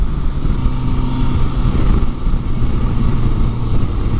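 A 2024 Suzuki GSX-S1000GX+ on a demo ride with quick shifter gear changes, heard as a loud, steady engine drone mixed with wind rush at close range, without clearly separated shift events.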